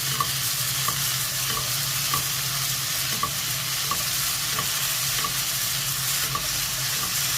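Fenugreek leaves and green peas are stirred in a hot pan for methi matar malai: a steady close sizzle with regular scraping strokes about twice a second, and no voices.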